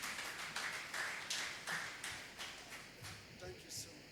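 Audience applause at a Rotary president-elect learning seminar, a moderate round of clapping with uneven bursts that swell and fade, fairly faint and distant, with a voice under it.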